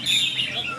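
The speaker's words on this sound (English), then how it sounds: "bird singing contest." Songbird singing at a bird singing contest in Padang Besar, southern Thailand near the Malaysian border; a bright, continuous warbling trill, fairly loud and close, with crowd murmur faintly underneath.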